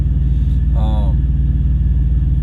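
A truck engine turns over slowly at low RPM, around 1,000, a close, steady low throbbing rumble with a regular pulse, and a brief vocal sound rises over it partway through.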